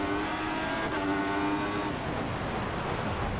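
Formula 1 race car engines at the start of a race in the F1 2014 game at the Austrian Grand Prix, a loud dense blend of high revving engine whines and broadband roar, one pitch sweeping then cutting out as the pack accelerates.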